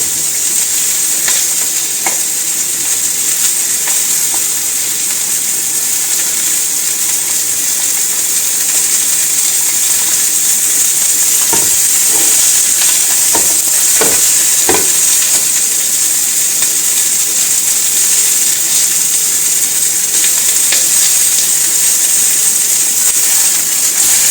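Chicken legs sizzle steadily in a pan on an induction hob, a constant loud hiss of browning fat with occasional pops and scrapes, close and uninterrupted by talk.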